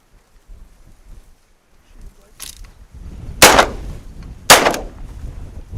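Shotgun blasts from a Benelli ring out on a snowy, icy hunt in 40 mph wind: two loud, sharp booms about a second apart over constant wind rumble, after a fainter earlier pop.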